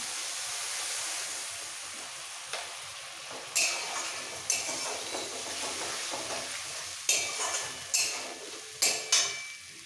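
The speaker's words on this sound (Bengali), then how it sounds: "সব একসাথে একটু কষিয়ে নেব। আর এই কষাতে কষাতে দিয়ে দিচ্ছি সামান্য একটু জল।" Cumin paste and spices cook with a little water in a pan, a soft sizzle broken by several sharp scraping strokes of a spatula against the metal, stirred in irregular bursts, with no voices.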